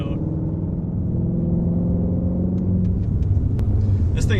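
A Shelby GT350 Ford Mustang on the road gives a steady, deep exhaust rumble that holds low and even throughout, with faint road noise and no talking.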